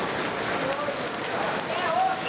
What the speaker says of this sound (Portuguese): A chuva jorrava do teto.